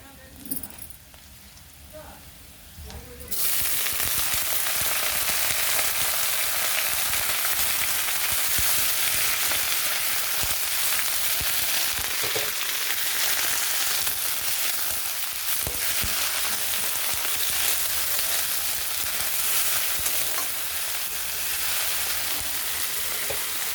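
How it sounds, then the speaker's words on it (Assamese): Onions frying in a pan, with mesta sorrel leaves added to them, give a loud, steady sizzle. The sizzle starts after a quieter opening of about three seconds and then runs continuously at close range. "মোৰ পিঁয়াজখিনি ভজা হৈ গৈছে। এতিয়া মই এড কৰিম মেষ্টা টেঙাৰ পাতখিনি।"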